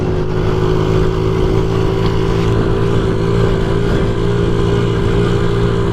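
A 1993 Honda Z50R minibike runs with a steady, droning small-engine hum, close and loud, holding an even pitch throughout with faint wind rumble underneath.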